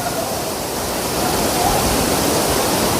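Water rushes steadily down a forest waterfall stream, a dense, even roar that holds constant from start to finish with no voices.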